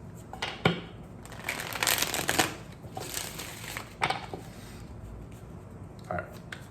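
Cards being shuffled in quick riffling bursts, close up, with soft rustling between them and a quiet room behind.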